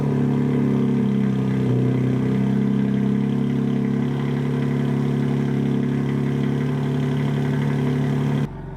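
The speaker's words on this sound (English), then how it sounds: "let's get the cold start going with the G80 with its new Catless Downpipes" A BMW G80 M3 with catless downpipes on a cold start, a loud deep steady idle drone that holds high revs throughout, then cuts off abruptly near the end.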